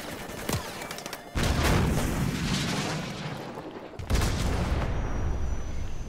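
Heavy gunfire and booming explosions in the Modern Warfare video game, with loud bursts of shots and deep blasts arriving in waves at close range.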